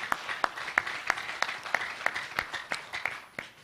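Sparse, faint clapping from a small audience during a conservative party leadership candidate's campaign speech, a handful of separate, evenly spaced claps standing alone without talk.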